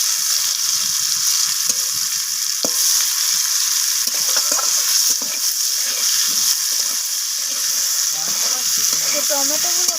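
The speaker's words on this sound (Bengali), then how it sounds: "তো এইভাবে টমেটোটাকে যদি ভেজে নেওয়া হয় তাতে করে টমেটোর কাঁচা গন্ধটা চলে যাবে" Tomatoes fry in oil in a pan, a loud constant sizzle broken by scraping stirs and small crackles throughout.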